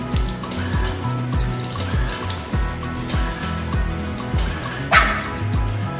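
A Shih Tzu puppy getting its first haircut gives a rapid series of sharp, close barks while a tap runs steadily in the background.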